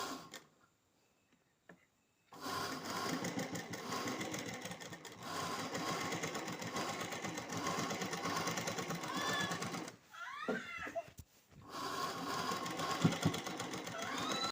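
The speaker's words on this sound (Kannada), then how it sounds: "ನಾವು ಇದನ್ನು ಈ ರೀತಿ ಇದ್ರ ಮೇಲೆ ಸ್ಟಿಚ್ಚನ್ನು ಹಾಕಬೇಕು." A sewing machine stitching an embroidery blouse runs steadily and quietly, with a short stop near the start and another brief break partway through before it resumes.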